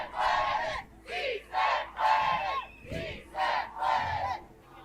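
A street protest crowd chants against the Trump administration and in support of immigrants, loud rhythmic shouted phrases repeating in regular pulses, close and filling the space.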